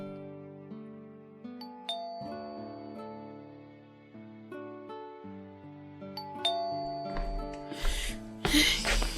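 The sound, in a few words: doorbell ringing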